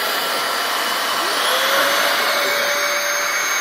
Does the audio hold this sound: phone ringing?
no